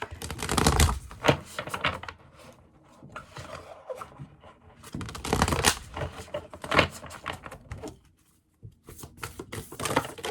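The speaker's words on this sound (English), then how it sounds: "I'll just shuffle the cards first" Tarot cards being shuffled by hand in repeated riffling bursts with short pauses between, close and fairly loud, no talking.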